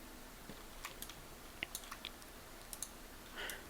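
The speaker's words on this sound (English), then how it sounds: "I'm going to go ahead and middle mouse click it and drag it up" A computer mouse gives a few quiet, scattered clicks over a low hiss, with no talk.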